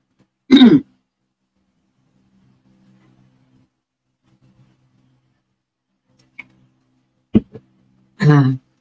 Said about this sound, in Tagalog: Hindi po to allergy, talagang inuubo ko. Productive kasi yung ubo eh.